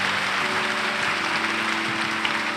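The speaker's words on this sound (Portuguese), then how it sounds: "uma salva de palmas ao Divino Pai Eterno" A church congregation applauds the Divine Eternal Father, an even wash of clapping over a sustained tonal backing, like held organ or keyboard notes.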